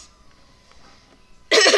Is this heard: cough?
yes